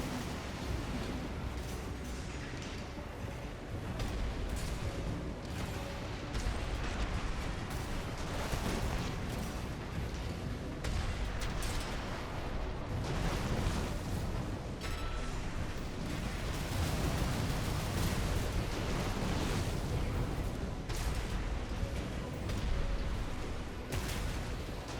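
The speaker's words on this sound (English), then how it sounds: "my opponent started to play a little more carefully, peppering me with missiles as he tries to keep himself at a medium distance" Missile volleys and explosions in a mech PvP video game, a steady, dense barrage of booms and impacts that runs loud and continuous for the whole stretch, with no talk.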